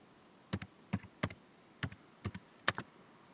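Keys typed on a computer keyboard during Peugeot/Citroen ECU software entry, heard as six short bursts of two or three quick, close clicks each, spaced about half a second apart in a quiet room.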